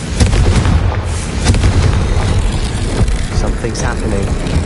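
Confringo fire spell cast in the Hogwarts Legacy video game, a loud booming blast that rumbles on for several seconds under a speaking voice.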